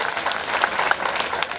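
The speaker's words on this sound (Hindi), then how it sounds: "चलिए इस पे ताली बजा दें" A short burst of audience clapping breaks out at a community gathering to cheer a candidate elected unopposed, brief and fairly even.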